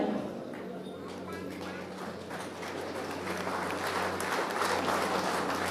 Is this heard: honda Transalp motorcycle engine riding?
no